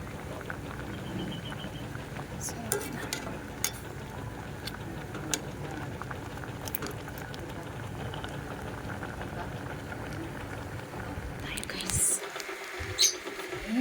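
A pot of dinengdeng, a vegetable stew with shrimp, bubbles on the heat with a steady close hiss and simmering crackle, while faint voices murmur in the background.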